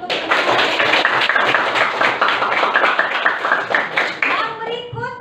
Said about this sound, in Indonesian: Kita beri aplaus dulu untuk